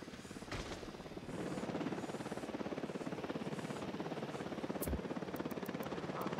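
Helicopter in the Ghost Recon Wildlands video game, a steady rhythmic rotor thumping that swells after the first second and holds fairly loud, with a few short sharp game sounds over it.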